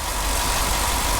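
The Coyote V8 of a Ford F-150 pickup idles smoothly nearby, a steady, even rumble with no revs and no voices.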